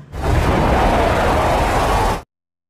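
A creatures' base blows up in a film: one loud, dense explosion roar that starts almost at once, holds heavy and rumbling for about two seconds, then cuts off abruptly to silence.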